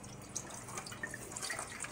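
Beef broth from a carton pours into a pot, a continuous close liquid splash and gurgle with small drips, moderately quiet and alone.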